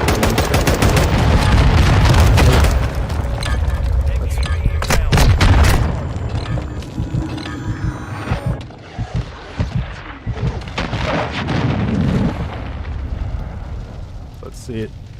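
Explosions in a video game boom heavily amid bursts of gunfire, loud and sustained for several seconds before easing into scattered blasts and rumbling; a person talks over the action.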